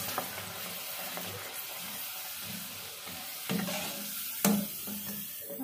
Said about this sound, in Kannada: ಎಣ್ಣೆ ಚೆನ್ನಾಗಿ ಕಾದಿದೆ ಹಪ್ಪಳ ಹಾಕ್ತಾ ಇದ್ದೀನಿ